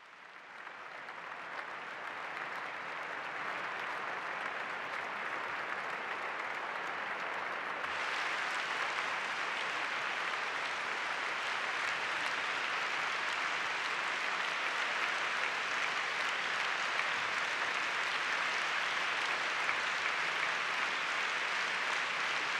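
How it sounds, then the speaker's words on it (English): Sustained audience applause at a party conference in Hannover, a steady broad roar of many hands clapping that swells noticeably louder partway through and keeps going without voices. "I take it that this applause is for Gazans, not for me."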